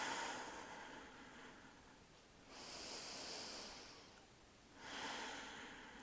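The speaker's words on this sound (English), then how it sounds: "Nice deep breathing." Slow, deep breaths during yoga practice, two long airy exhales about two and a half seconds apart, faint and close, with no talking.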